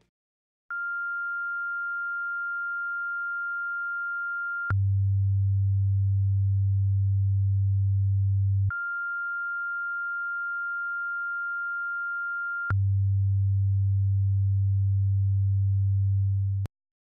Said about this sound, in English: I'll let these two tones cycle a few times, and you try to pick out which one is louder